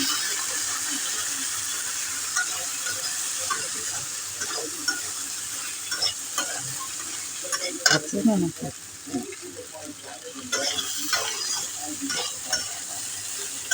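Chickpea and potato curry with a pinch of cumin stirred in a pan, a soft sizzle under irregular spoon scrapes and clatters that grow busier midway, close and moderately loud, with faint voice at times.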